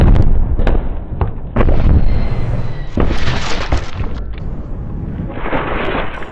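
A bowling ball cannon fires at a torso target, giving several loud, booming blasts and heavy impacts close by, each followed by a rumbling, crackling tail.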